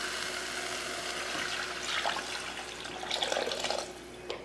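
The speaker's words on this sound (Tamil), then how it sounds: "இப்போ புளி தண்ணி சேர்த்துடலாம்." Tamarind water pours into a pot of rasam cooking with sautéed tomatoes. It makes a continuous liquid splashing that swells into louder gushes near the end, with no talk.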